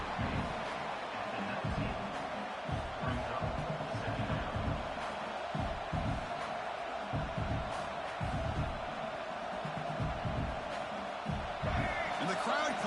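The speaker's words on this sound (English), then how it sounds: "the crowd coming to life here, trying to help this defense down in the red zone" A football stadium crowd at LSU v Alabama roars and cheers steadily as the home defense digs in near the goal line, a dense, distant wall of noise with a commentator talking over it.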